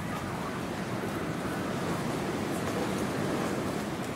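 Ocean waves break steadily along the east coast of Tahiti where children play in the surf, a continuous, fairly loud wash of surf with no clear pauses.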